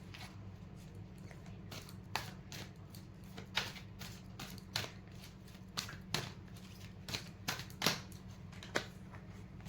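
Tarot cards are shuffled and handled close by, making a string of quiet, uneven snaps and flicks over a low steady hum, with no talking.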